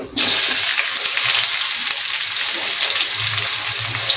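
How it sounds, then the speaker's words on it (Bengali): Sliced onions frying in oil with whole spices for a village-style chicken kosha, a loud, dense sizzle that bursts in abruptly and holds steady throughout. "কুচিয়ে রাখা পেঁয়াজ দিয়ে এটাকে সুন্দর করে ব্রাউন করে ভেজে নেবো আমরা"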